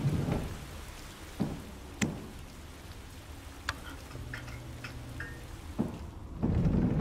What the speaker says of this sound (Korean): 오, 비가 오네요.